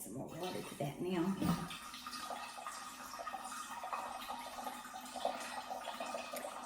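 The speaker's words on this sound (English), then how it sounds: "I can add some more water to that now." Water runs from a ProPur filter into Thai tea, a soft, steady pour heard close up at low level beneath faint background noise.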